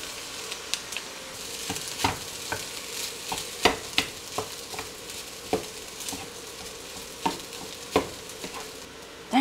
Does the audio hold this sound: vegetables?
yes